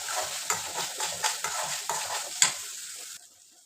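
A spoon scrapes rhythmically through frying tomatoes with turmeric in a pan for dhal, a steady sizzle under repeated stirring strokes with a sharper clink near the end before it stops.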